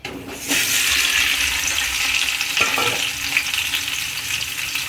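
Potatoes dropped into hot oil for Bhavnagar-style bhungla bateta, setting off a sudden loud, dense hissing sizzle that holds steady and close with a couple of faint knocks.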